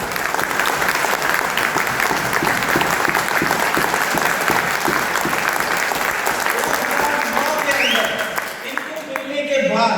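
Sustained applause from a large audience at a Hindi-language event, dense clapping at full strength for about eight seconds before it thins and fades at the end.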